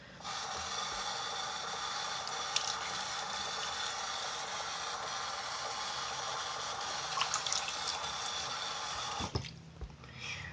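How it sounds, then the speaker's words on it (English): Tap water running steadily under a sink onto a sanitary pad, a continuous hissing splash with faint clicks and a brief knock near the end. "and turn on the water."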